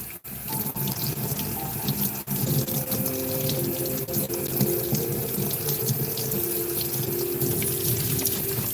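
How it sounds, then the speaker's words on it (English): Water runs steadily from a tap into a sink while soap and paint are rinsed and squeezed out of a sponge or cloth, a continuous close splashing rush with small clattering knocks. "Squeeze that water right on out."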